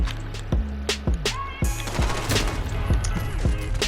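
Call of Duty gunfire rings out in sharp, closely spaced shots, then a longer automatic burst. The shots are loud and near, with no talk over them.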